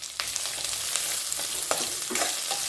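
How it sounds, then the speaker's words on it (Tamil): A spoon stirs coconut pieces and coriander sizzling in a hot tempering pan for red rice flake dumplings, giving a steady close frying hiss with small scraping clicks and no talk. "தேங்காய் சேர்த்துனோடனே லைட்டாக மிக்ஸ் பண்ணி விட்டுட்டு ஃப்ளேம் ஆஃப் பண்ணிட்டேன்"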